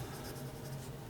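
A Monteverde Aldo Domani fountain pen with a steel German nib scratches across paper in a quiet, continuous close-up scrawl, soft and brief with no voices.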